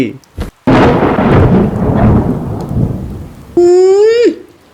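A dramatised thunderstorm: a loud crack of thunder gives way to steady heavy rain, then a short rising-and-falling tonal sound cuts in near the end.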